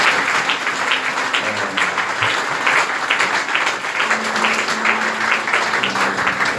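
A church congregation applauds steadily and loudly to acclaim the Lord at a New Year's Day service, dense clapping continuing throughout with faint murmurs underneath.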